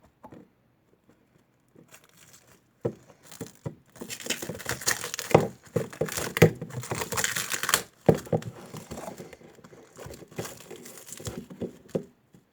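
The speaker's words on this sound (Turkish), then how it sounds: "Sonra şu streç filmi koparmam gerek." Stretch film plastic wrap being handled and torn off, loud close crinkling and crackling in irregular bursts, with a dense stretch in the middle and scattered rustles and snaps around it, no speech.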